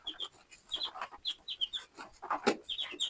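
Newly arrived broiler chicks cluck and cheep in a steady run of short, high calls, several birds close by and overlapping, with no talk.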